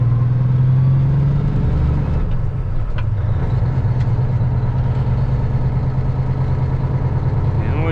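A 75-foot truck unit's engine rumbles steadily at low idle while crawling slowly through tight streets, a continuous close drone with a faint rise near the end and no talk.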